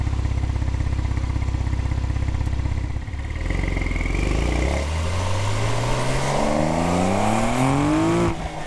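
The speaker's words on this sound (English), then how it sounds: "Open the flaps on the sports exhaust and listen to some flat 6 orchestra behind you." A Porsche 911 with a twin-turbo flat-six engine, a 7-speed manual and a sports exhaust with open flaps: a loud, close engine note settles after a gear change, then climbs in a long rising rev sweep toward high rpm.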